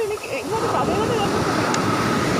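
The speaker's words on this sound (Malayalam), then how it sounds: "നല്ല തിരമാലയുണ്ട് കേട്ടോ" Ocean waves breaking on a sandy shore, heard as a dense, continuous roar and wash with wind buffeting the microphone, close and loud throughout.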